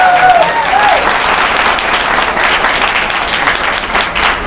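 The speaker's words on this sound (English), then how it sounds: "I appreciate the applause" A debate audience breaks into loud, sustained applause, many hands clapping together in a dense wash, with a brief tonal sound near the start.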